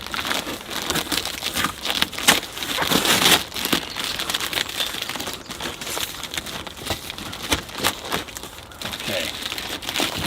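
Cardboard and paper packing material crinkles and rustles continuously as a bonsai pot is unboxed from environmentally friendly packaging, with steady close handling noise and occasional louder tears throughout.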